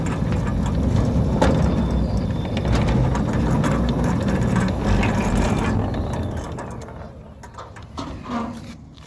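A Centurion D6 Smart gate motor drives a steel sliding gate, a steady mechanical grinding and rattling hum with clanks that fades and thins toward the end, with birds chirping faintly.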